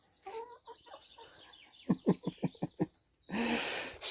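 Chickens by their coop at a cabin on a hot day, clucking close by in a quick run of about seven sharp clucks after a few softer calls, ending in a louder squawk.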